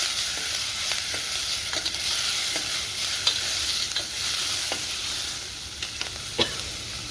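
Green chilies, curry leaves and dried chilies fry in an AMC pot, giving a steady sizzle with scattered sharp pops and crackles and occasional stirring scrapes throughout, close and moderately loud, with no talking.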